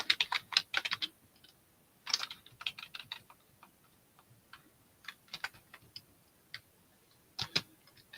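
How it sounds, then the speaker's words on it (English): Fingers type on a computer keyboard, quiet clicks landing in quick uneven bursts separated by short pauses, close up with no talking. "I thought I was typing in the comments field"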